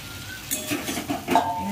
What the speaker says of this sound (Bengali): আলুটাকে দিয়ে মশলাটা দিয়ে একটু ভালো করে ভাজবো